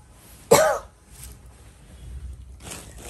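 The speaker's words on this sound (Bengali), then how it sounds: "আমি জানি না ভিডিও করতে নিলে আমার কাশি আসে" A single sharp cough bursts out close by, followed by quiet room noise and a softer breathy sound near the end.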